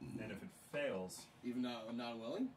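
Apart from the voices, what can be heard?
No everyday noises stand out.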